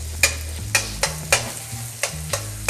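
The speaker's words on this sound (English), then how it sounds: "Start off with some olive oil in the pan, and then add some onions." Onions sautéing in olive oil in a pan, with a series of sharp stirring scrapes of a utensil against the pan at irregular intervals over a soft, steady sizzle.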